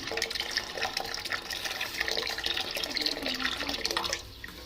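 Boiled water pours in a steady splashing stream into a pot of flour being mixed for dough, with a few uneven gurgles, close and fairly quiet, no talking.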